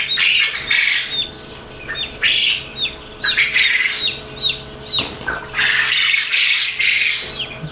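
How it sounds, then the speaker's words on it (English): Quail squawk and chirp repeatedly in short, shrill bursts, close by, with a faint steady hum in the background. "Dang quail are getting noisy on me again."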